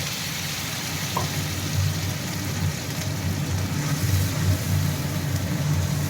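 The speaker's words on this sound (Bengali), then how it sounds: "এবার গরম তেলে আমরা দিয়ে দেবো কালো জিরে, তার মধ্যে অ্যাড করে নেবো বানানো পেস্টটা" Nigella seeds and a red spice paste frying in hot oil, a steady close sizzle with a low crackling hiss throughout, no talk.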